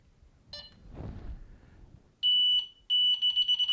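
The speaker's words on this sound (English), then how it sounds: "you can slow the beeps down so that you hardly get any beeps" Delkim fishing bite alarm giving loud, sustained electronic beeps in two bursts, with a softer tone and low rustle before them.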